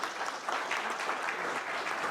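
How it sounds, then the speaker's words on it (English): A seminar audience at a learning agility workshop breaks into applause for a volunteer, a dense, even wash of many hands clapping at moderate volume, no voices on top. "The big applause for the first person."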